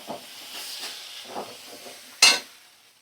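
Mustard and poppy seed paste fries with spices in a pan for a Bengali eggplant and bhetki fish dish, a soft steady sizzle with faint stirring scrapes and a sudden sharp hiss near the end.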